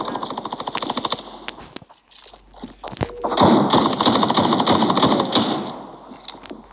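Gunfire from a Deagle pistol in the mobile shooter Standoff 2 sounds as loud, rapid, rattling bursts of shots, broken by a brief lull and one sharp crack before another long, dense volley.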